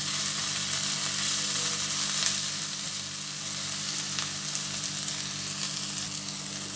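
Spice masala with slit green chillies frying in a pan for a Bengali shol fish curry, a constant moderate sizzle with occasional faint stirring scrapes and no voices.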